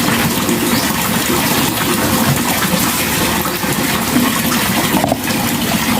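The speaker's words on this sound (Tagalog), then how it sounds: "papalitan ko lang po yung tubig nito" Water rushes and gushes steadily into a crayfish tank during a water change, a loud continuous splashing pour with no voices.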